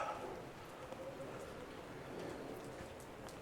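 Light drizzle falls in a park in Yeşilköy, a soft, steady hiss of rain holding evenly throughout with a faint voice underneath.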